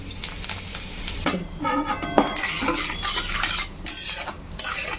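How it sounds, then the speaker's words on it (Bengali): Whole cardamom pods, a dried red chilli and cumin seeds crackle and sizzle in hot oil for a Bengali potato curry, with scattered clinks of a utensil against the pan throughout. "তেল গরম হয়ে গেছে, তাতে ফোড়নে দিলাম 2টো এলাচ, একটা শুকনো লঙ্কা আর 1 চামচের মতো গোটা জিরে"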